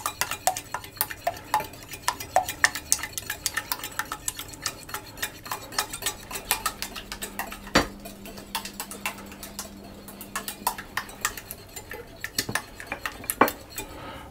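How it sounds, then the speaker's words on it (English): Eggs whisked in a bowl for custard, a quick steady run of metal-on-bowl clinks and taps that keeps going without a break, close by with no talk. "Whisking all the time."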